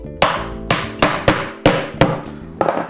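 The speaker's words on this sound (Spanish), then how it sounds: "lo que tenemos que hacer es golpearle con el martillo." Hammer blows driving a plastic pivot into the top of a kitchen cabinet leg during furniture assembly: seven sharp, loud knocks in an uneven rhythm, close by, with no talk.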